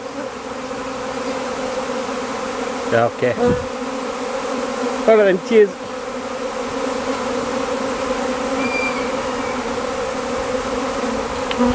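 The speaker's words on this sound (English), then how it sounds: "the bees coming in and out of the" Steady, dense buzzing of many bees near a four-frame nuc hive during a swarm's arrival, continuous throughout, with a couple of brief spoken remarks partway through.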